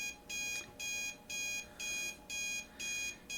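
A video game alarm clock in Snoot Game beeps in six loud, evenly spaced electronic bursts, each about half a second long with short gaps, alone with no talk.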